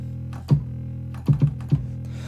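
Deep, distorted 808 trap bass hits sound alone in a short sparse pattern, each with a sharp punchy attack over a sustained low hum.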